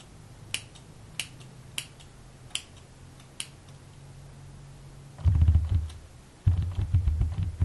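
Scissors snip lace off a glueless human-hair wig with five crisp, evenly spaced cuts, close and clear, followed by louder rustling and handling noise.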